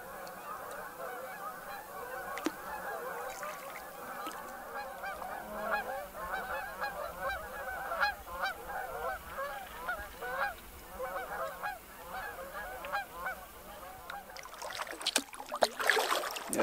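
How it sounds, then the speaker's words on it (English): A flock of about 200 Canada geese in a large delta marsh honks as the birds take off, a dense overlapping chorus of calls that builds and grows busier toward the end. "it must have been 200 geese, Canadian geese, that just flew off"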